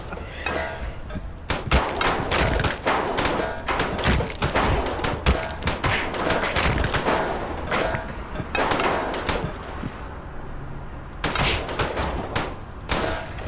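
A laughing gun fires in Scribblenauts Unmasked, a dense run of sharp rapid bursts and thumps rattling off loudly for most of the stretch with brief pauses.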